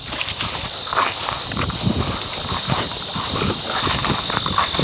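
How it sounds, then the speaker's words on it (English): Insects buzz around a nest on the grounds of an abandoned castle in New Hampshire, making a steady high drone, with scuffing footsteps underneath and no talk. "there is tons of bees flying up there and around it"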